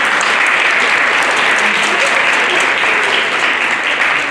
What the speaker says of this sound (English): So a round of applause for our 5th graders.